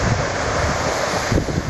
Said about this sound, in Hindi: हवा बिल्कुल ज़बरदस्त हवा चल रही है